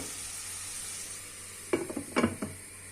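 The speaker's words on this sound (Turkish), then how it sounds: "Birazcık böyle kavruyorlar birlikte." Ingredients sauté together in a pan with a soft constant sizzle, then a few sharp utensil stirs and clatters against the pan, close and brief.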